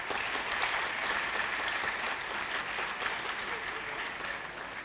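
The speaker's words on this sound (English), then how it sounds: "If you want to clap, please do it well." An audience at a university technology week event applauds in a steady, moderately loud wash of clapping that lasts the whole stretch without a break.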